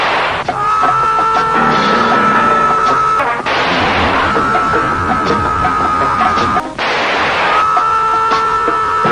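Video game gunfire aimed at enemies comes in three loud, sustained bursts, each a harsh wall of noise lasting a few seconds with a ringing metallic tone, separated by brief drops.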